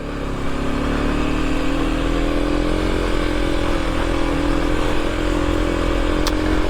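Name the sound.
adventure motorcycle puttering along a trail in first gear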